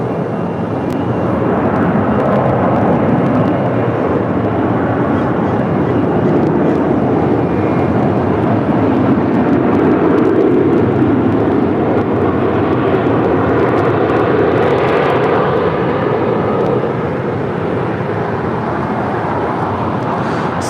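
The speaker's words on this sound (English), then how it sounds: "Southwest Airlines Flight 5244 coming in from Houston, Texas. It's a 737-700." A Southwest Airlines Boeing 737-700 arriving from Houston at LAX makes a loud, sustained jet roar close by, with a broad steady rumble and wind buffeting and no talk.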